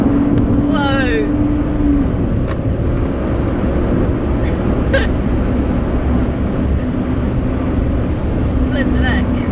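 BMW 328ci driven hard, a steady loud engine and road roar filling the cabin throughout, with a rising engine whine early on and people talking and laughing over it.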